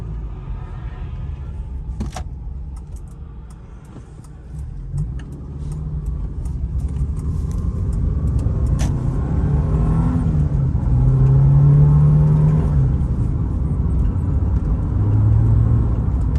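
A Subaru with a slipping clutch drives and accelerates, its engine a steady loud low rumble heard from inside that rises in pitch, with a whine and a few clicks and knocks, and no talk.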